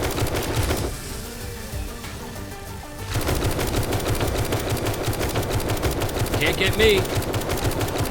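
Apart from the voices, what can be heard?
tactical assault rifle fire in video game 7 Days to Die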